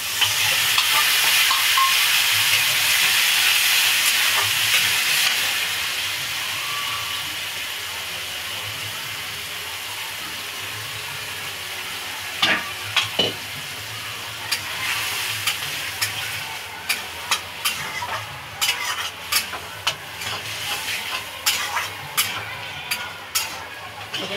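Chana dal tipped into hot oil, a loud hissing sizzle surging at first and then settling into a steadier fry, with scattered stirring scrapes and clicks of a spoon later on, close by.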